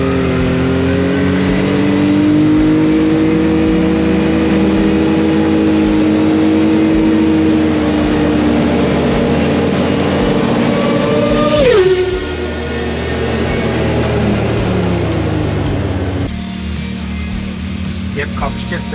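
A Red Bull Formula 1 race car's engine screams loudly and steadily, then drops sharply in pitch as it passes, with a high-revving whine trailing off into the distance.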